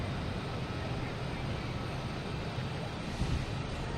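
An airliner taking off at Boston Logan Airport gives a steady, broadband jet roar that holds at an even level throughout, heard from some distance.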